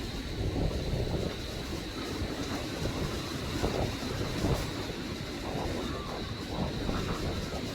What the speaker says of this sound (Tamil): ட்ரெயின் பார்த்திங்கன்னா ஒரு 2 கிலோமீட்டர் தொலைவில் வந்து கொண்டிருக்குது